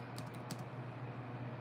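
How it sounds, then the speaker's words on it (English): Numbers being typed on a computer keyboard, a few quick clustered keystrokes near the start over a steady low hum, then only the hum with no talk. "I'm typing them in"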